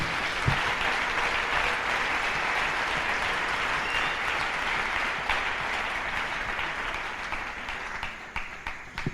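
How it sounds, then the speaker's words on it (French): A church audience applauds in praise of the Lord, sustained dense clapping from many hands that fills the space, then thins and trails off in scattered claps at the end. "Let's clap for the Lord."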